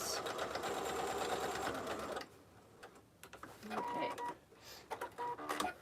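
Home sewing machine stitching a fabric rectangle for a belt bag with interfacing, running in a loud steady burst for about two seconds, then pausing and restarting in shorter intermittent runs.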